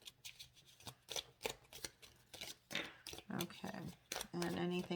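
Tarot cards are shuffled in quick riffling bursts, close and crisp, with brief pauses between shuffles and a faint voice speaking in between.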